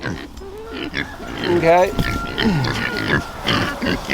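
Pigs on a small off-grid farm grunt and oink nearby at feeding time, several short snorts, while someone talks over them briefly.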